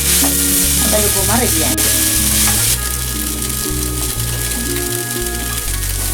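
Carrots, beans, potato and nuts fry and get stirred in tempering oil for poha upma, a loud continuous sizzle with scraping under someone talking and background music.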